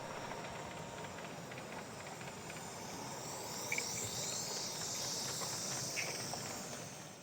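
A Yorkie garden railway model locomotive runs at a garden railway show, giving a steady hiss and soft rolling rumble throughout, with a faint high squeal and a couple of small clicks, and no voices.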